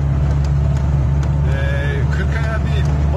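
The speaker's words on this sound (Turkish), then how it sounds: "Usta yani geldi sağ olsun. Sorunu giderdi. Arabayı çalıştırdık." Repaired car engine idles steadily with a low, constant hum, while faint voices and some chirping sounds drift in above it.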